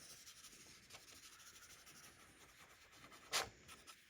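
Paint being dabbed off with a paper towel during a thrifted Christmas decor DIY, a faint, soft papery rubbing that continues quietly with one brief, sharper brushing stroke near the end.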